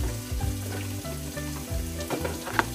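Garlic, green chili and onion sizzle steadily in oil on a hot plate over a lowered gas flame, a loud continuous fry with occasional stirring scrapes and clicks, for a Kolkata-style chicken gravy chow mein.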